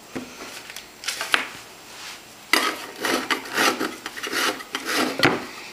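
An orange rasps against a kitchen grater in short scraping strokes, bursts of quick rubbing separated by pauses, close and fairly loud with a light metallic edge.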